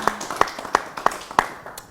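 A few people clap in a sparse, slow rhythm, about five distinct claps spaced evenly, close and fairly faint.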